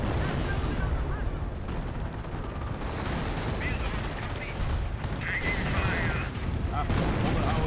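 A Calliope rocket barrage fires in Company of Heroes, a dense, continuous roar of launches and blasts with bursts of gunfire layered throughout, loud and steady across the whole stretch, with a voice talking over it.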